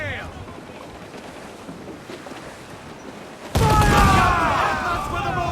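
A ship's cannon broadside in Assassin's Creed IV booms in abruptly after a stretch of wind and sea noise, a loud, sustained roar of overlapping blasts that rumbles on and slowly fades.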